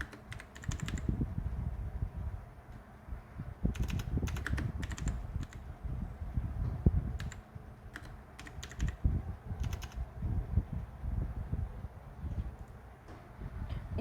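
Typing PySimpleGui on a computer keyboard, a close run of irregular clacking keystrokes in short bursts with brief pauses, no voices.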